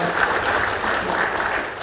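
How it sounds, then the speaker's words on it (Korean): Audience applause at a Korean political lecture event, an even, continuous patter of many hands clapping at moderate volume, with no voices standing out. "여러분 큰 감사의 박수를 한번 부탁드리겠습니다"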